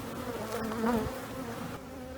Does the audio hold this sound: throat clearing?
no